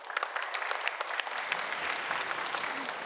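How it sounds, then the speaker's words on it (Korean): A live radio-show audience at a public broadcast claps for a cardiology professor about to lecture, a steady patter of many hands at moderate volume, fairly far off and without any talking. "큰 박수로 청해 듣겠습니다"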